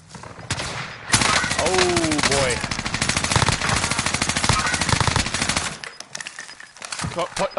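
Sustained automatic machine gun fire in a team shooter video game, rapid dense bursts running almost continuously with a few short gaps, loud and close, with some voice chat mixed in.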